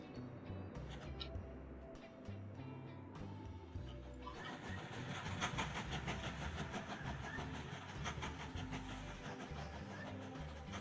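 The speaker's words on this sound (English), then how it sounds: "Passenger train, passenger train. Where's the last passenger train? Oh, it's already moving up." Passenger train rolling along in the Mashinky train simulator game, a continuous rumbling rail clatter with rhythmic clicking that swells louder partway through and holds steady.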